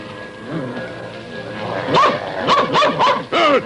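A dog barks and yips repeatedly, close and loud, in short excited bursts with whiny tones between them.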